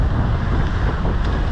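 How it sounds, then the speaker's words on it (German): Headwind roars steadily across the microphone during a gravel bike ride, a loud continuous rush of low buffeting with no speech. "Vor allen Dingen kommt der Wind wirklich wieder von vorne"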